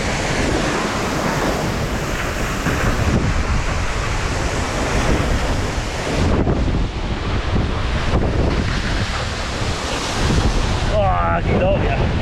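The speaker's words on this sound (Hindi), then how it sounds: "ये वाटरफॉल है, वहाँ से आ रही है।" A waterfall in the African wilderness gives a continuous loud, roaring rush of falling water. Wind buffets the microphone heavily throughout.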